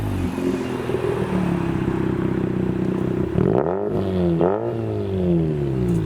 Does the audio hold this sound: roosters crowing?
no